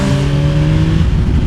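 A 2026 Yamaha MT-09 motorcycle engine drones loud and close on the move, its steady tonal hum holding for a short moment under wind noise.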